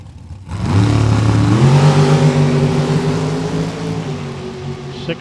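A drag racing dragster engine at the starting line swells from quiet into a loud, rough, throbbing roar, climbs briefly in pitch, then holds a steady, slightly fading drone, close and without talking.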